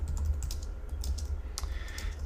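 Typing on a computer keyboard while data is entered, a quiet run of soft, irregular key clicks over a steady low hum, with no speech.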